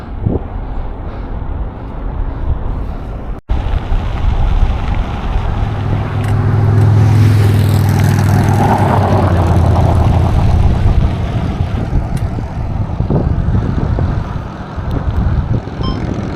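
A three-wheeled motorcycle drives past outdoors, its engine building to a loud, close drone and then easing away, with wind buffeting the microphone.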